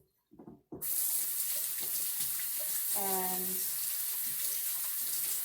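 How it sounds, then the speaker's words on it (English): Cool tap water gushes steadily from a kitchen faucet into a sink, a loud continuous rush that starts after a brief spoken phrase and keeps running to the end. "you're going to turn on the cool water"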